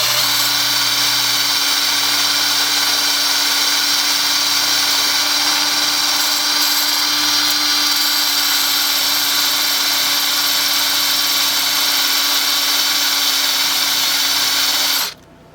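A drill bores through the oiled metal fence of an Evolution Rage 4 chop saw, giving a steady, high, whining drone that runs unbroken for about fifteen seconds before stopping abruptly.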